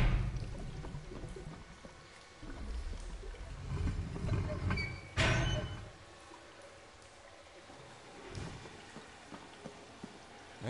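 In-game water pouring during a prison-break puzzle in the World War I game Valiant Hearts, a steady splashing rush that swells and surges over about ten seconds with a few louder bursts.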